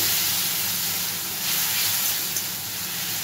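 Water poured onto ginger in a hot pan gives a steady, loud hissing sizzle that holds evenly throughout, with no voices.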